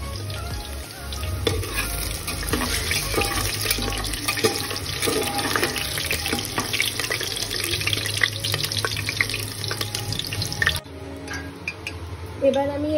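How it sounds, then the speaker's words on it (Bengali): Potatoes fry in hot oil in a home kitchen as part of a chicken dish. A loud, continuous watery hiss and bubbling carries for most of the stretch before the sound abruptly thins near the end. "আর এখন আমি আলুগুলোকে প্রথমে তেলে ফ্রাই করে নেব।"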